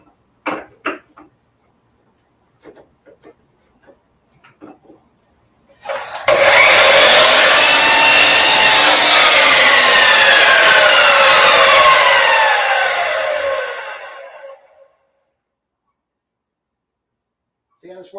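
A miter saw cuts a small piece of pallet wood in one loud, close cut lasting about nine seconds before winding down; brief talking comes before it.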